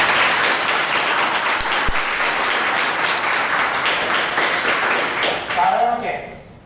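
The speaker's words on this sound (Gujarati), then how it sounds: "એ પ્રોજેક્ટને આપણે સૌ તાળીઓના ગડગડાટથી વધાવીએ." A seated audience claps steadily to welcome a Rotary project that rewards teachers, the dense applause running on before tapering off abruptly, followed by a brief voice.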